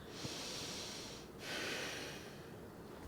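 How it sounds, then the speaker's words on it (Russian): A person breathes through the nose in two long, airy, close-up breaths separated by a short pause, with a faint snort at the start. "С помощью носа я дышу."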